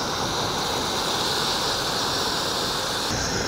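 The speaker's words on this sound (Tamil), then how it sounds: "தண்ணி ஊற்றிக்கலாம்." Water pours steadily into a pot, a continuous broad splashing rush at close range that shifts slightly near the end, with no speech.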